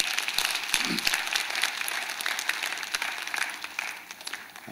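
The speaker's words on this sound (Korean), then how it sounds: "우리 청년들을 격려하는 마음으로 우리 박수 한번 하겠습니다." A church congregation at an early-morning prayer service claps to encourage its young adults, a dense burst of many hands that stays strong, then tapers slightly near the end.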